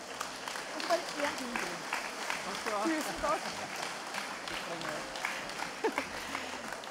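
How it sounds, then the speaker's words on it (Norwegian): An audience applauds the judges at the final of a group folk-music competition at a national festival in Skjåk, 2018. Steady, fairly loud clapping fills the hall, with voices mixed in. "En stor applaus og takk til dommerne."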